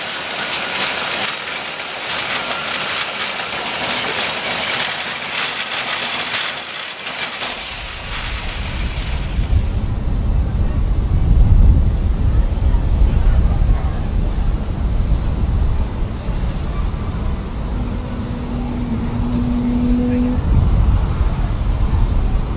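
Engines of an Airbus A350-1000 roar in reverse thrust on the landing rollout, heard from the cockpit as a loud, sustained rumbling wash that swells and holds steady over a broad hiss, with no talking.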